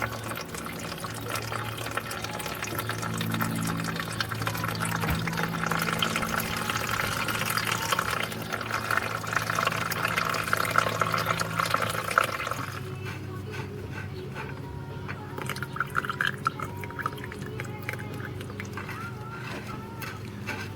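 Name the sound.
water draining from tractor transmission drain plug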